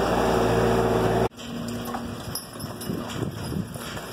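Hooves of American Brabant draft horses pulling a compost spreader clip-clop in an uneven rhythm over a low rumble, following a loud steady whir that cuts off abruptly.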